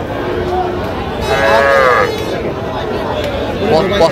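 A young bull moos at a cattle market, one loud, drawn-out low call in the middle of the clip, heard near, over the busy murmur of the crowd.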